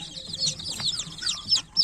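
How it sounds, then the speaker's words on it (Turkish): Hens cluck and chatter in a coop with roosters and small chicks, giving a continuous stream of overlapping, close calls that rise in a few louder bursts near the end. "Bakın şunlar muhtemelen horozlar."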